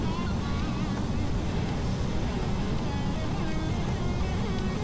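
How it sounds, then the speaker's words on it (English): Shuttle rocket engines firing in Kerbal Space Program, a steady broad roaring rumble that holds without a break, fairly loud and constant. "Shuttle engines."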